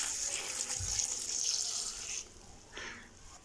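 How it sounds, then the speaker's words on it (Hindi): Water poured from a glass into a cooking pot of spiced potato moongre, a soft steady splashing stream lasting a few seconds, fairly quiet and close, with no talk. "हाफ़ ग्लास इसमें मैं पानी ऐड कर दूंगी।"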